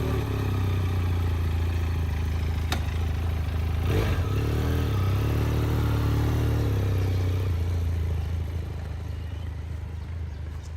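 A 2019 Benelli TRK 502 touring motorcycle, around 46-47 horsepower, rides along with a steady, loud engine drone throughout, easing slightly near the end, with no talking.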